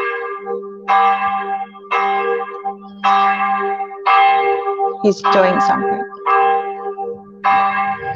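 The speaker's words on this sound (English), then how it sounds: "Right, now we've got the bells as well" Church bells ring out in steady, repeated peals, loud and close, with a voice briefly talking over them.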